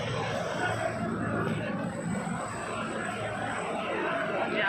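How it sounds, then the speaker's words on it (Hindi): A helicopter's engine roars steadily at a moderate distance, a continuous droning rumble with faint voices mixed in. "हेलीकॉप्टर आया हुआ है।"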